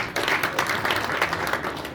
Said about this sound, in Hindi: लोग तालियों से स्वागत करें।